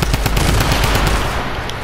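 A drum gun in a video game fires a rapid, loud, continuous burst of shots, close and dense throughout.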